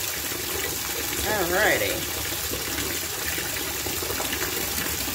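Water gushing from a faucet into a bathtub to make bubbles, a steady broad rush running the whole time, with a person speaking briefly over it near the start.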